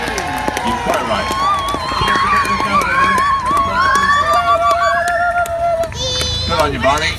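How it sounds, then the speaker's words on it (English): Crowd at an outdoor Christmas lights switch-on event clapping and cheering at a steady level beneath an announcer's amplified voice and whistles or squeals, continuous throughout. "And a very special round of applause"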